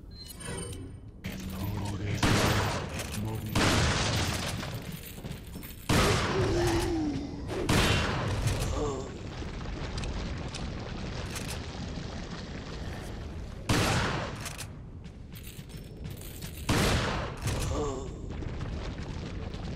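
Shotgun blasts in Resident Evil 4, several loud, sharp booms spaced a few seconds apart, each decaying into quieter background game noise.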